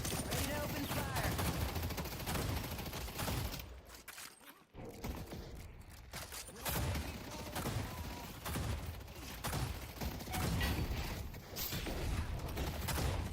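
Gunfire in the Deadlock video game: dense, rapid shooting and clattering mechanical noise from a chaotic fight, nearly continuous, briefly dropping away in the middle before resuming, with a voice speaking at times.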